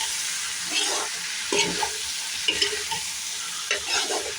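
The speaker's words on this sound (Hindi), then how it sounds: "इसे अच्छी तरीके से मिक्स करेंगे।" Potatoes and dried peas sizzle steadily in a hot pan while a spoon stirs them with intermittent scraping and clinking, a continuous frying hiss throughout.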